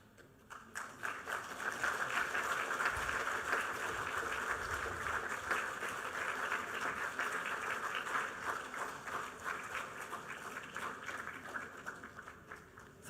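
Sustained applause from the audience at a launch ceremony for transformative projects in Meghalaya, a broad, even wash of many hands clapping that swells and holds for over ten seconds.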